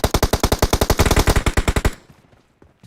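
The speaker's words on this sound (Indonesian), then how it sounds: "Nih tembakan arah dari sini nih" Automatic gunfire in the mobile game PUBG Mobile: a rapid, evenly paced burst of about twenty loud shots that stops abruptly, followed by near silence.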